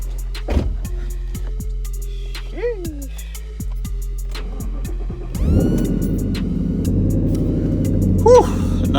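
A V8 muscle car engine cold-starting at a gas station, a loud throaty rumble kicking in after some scattered knocks and shuffling, then idling steadily to the end with a brief voice near the end.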